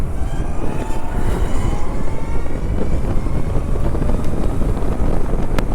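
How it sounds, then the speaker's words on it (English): A Zero electric motorcycle on its first ride gives almost no motor sound, so loud, steady wind rush across the microphone and rolling road noise fill the whole stretch. "zero electric motorcycle."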